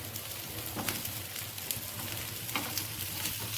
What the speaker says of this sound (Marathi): तर कमी गॅसवर हे भाजून घ्यायचं आहे, कारण की तूप लगेच करपायला बघतं.